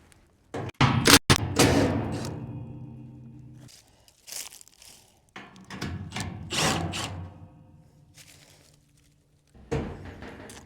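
Bolts being worked loose on a farm implement: scattered metallic clanks, crunches and ratcheting bursts come in uneven clusters, with short pauses between them and no talking.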